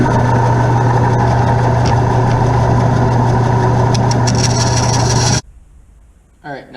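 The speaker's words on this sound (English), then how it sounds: "we're going to go ahead and cut them out on the bandsaw" Bandsaw cutting rocket fins that have been traced out in permanent marker, giving a loud, steady machine drone with a rasping cutting edge that stops abruptly near the end, followed by a quiet room and a brief faint sound.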